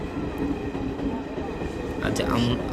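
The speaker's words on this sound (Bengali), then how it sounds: "আজ আমরা সবাই দেখতে পাচ্ছি ট্রেন চলা চালু হয়ে গেল" A train rumbles along steadily on newly converted broad-gauge track at Krishnanagar Road station, a low, continuous roar, and a few faint voices briefly surface near the end.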